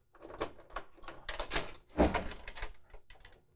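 The metal coin door on a Nintendo Super Punch-Out!! arcade cabinet being opened: a few scraping, rattling clunks and a louder metallic clack, heard close up.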